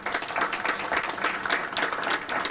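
An audience applauds warmly to welcome a guest speaker at a Springfield cultural and economic planning forum, with dense, steady clapping that continues evenly throughout and no break.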